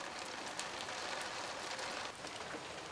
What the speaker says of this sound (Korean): 오후엔 비까지 내립니다.